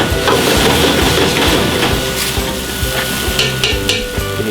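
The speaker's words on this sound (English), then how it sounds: "we're gonna add our white wine. And again, we're actually just looking to reduce it while stirring" White wine sizzles as it reduces in a hot pan, a loud, steady frying hiss with repeated scraping and knocking of a utensil stirring against the pan.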